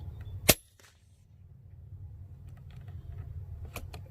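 An FX Impact air rifle fires a single sharp, close report while being tuned in the field, followed by faint mechanical clicks and a low ambient hum.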